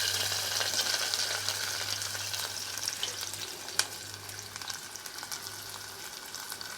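Long-sliced large onions and slit green chillies fry in a pan with a steady, moderate sizzle, a low constant hum beneath and one sharp clack partway through.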